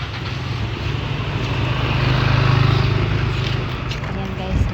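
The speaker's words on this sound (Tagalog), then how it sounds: "Sandali, may motor." A motorcycle engine rumbles past near a market on a street in the Philippines, a low steady drone swelling slightly toward the middle under constant outdoor noise, fairly close.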